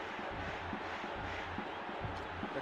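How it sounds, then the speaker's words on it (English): Stadium crowd in International Superstar Soccer 98 voicing displeasure, a steady broad roar of massed voices with rhythmic surges, moderately loud and continuous throughout. "The crowd aren't happy with that one."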